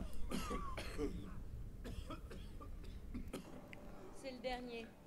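Several rough coughs and throat-clearing bursts from characters in the video game Skyrim, scattered over five seconds with a voice speaking in between.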